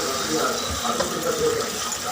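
Rice and moong dal being rinsed in water for hotel-style ven pongal, a continuous splashing and swishing wash at close range, with a voice talking over it.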